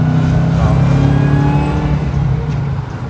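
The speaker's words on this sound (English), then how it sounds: "Hellcat motors do that, don't they? They always give you the whine." Supercharged Dodge Hellcat engine in a six-speed manual 1969 Plymouth Road Runner, a loud close rumbling drone with a faint high whine on top, easing slightly toward the end.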